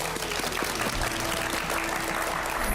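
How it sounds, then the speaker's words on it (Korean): An audience applauds to welcome a guest speaker at a Korean education lecture, a dense, even wash of clapping that holds steady, moderately quiet and without a break. "박수로 맞아주시죠"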